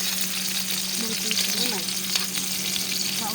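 Garlic frying in a pan for a Filipino home-cooked dish, a steady close sizzle with a constant background hum and faint bird-like chirps here and there.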